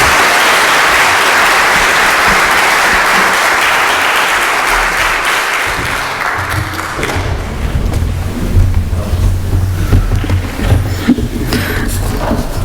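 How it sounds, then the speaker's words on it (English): An audience at a community gathering gives a loud, dense round of applause that runs for about six seconds, then thins into scattered claps, thumps and crowd movement. "Can we have a round of applause for all of our people who shared today?"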